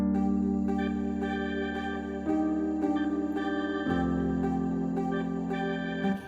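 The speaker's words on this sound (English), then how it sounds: "I used organ like this from AirMusicTech," Sustained organ chords from an AirMusicTech organ plugin in an amapiano track, held steadily with a slow pulsing shimmer, changing pitch a few times, played alone without any talking.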